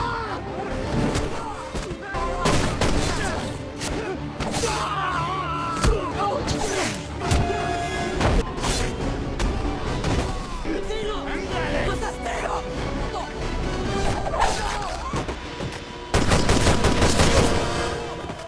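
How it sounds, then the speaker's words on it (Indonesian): Gunfight between police and mercenaries in the action film The Expendables, with bursts of automatic fire, single shots and impacts layered over music and effects, loud and dense throughout with some voices mixed in. "Adegan baku tembak pun terjadi."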